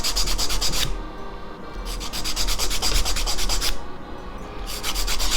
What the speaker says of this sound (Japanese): こういうネイルファイルで再度ある程度ねデコボコでもファイルを入れたら結構ねいい感じにはな